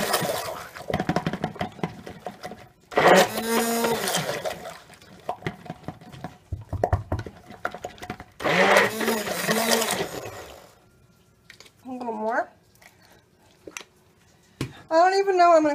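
Stick blender mixing colorful soap batter with titanium dioxide, scented with black raspberry vanilla and apple, whirring in several loud bursts separated by pauses, with someone talking in between.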